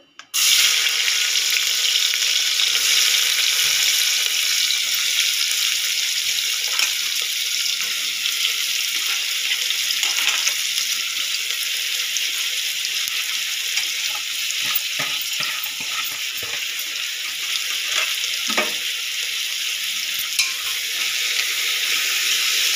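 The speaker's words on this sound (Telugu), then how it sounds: "వేగే వరకు ఫ్రై చేసుకుందాం. ఉల్లిపాయలు అయితే వేగాయండి." Onions frying in oil in a pressure cooker for a mutton drumstick curry, a constant close hissing sizzle that runs throughout with occasional scraping and clinks, and no talk.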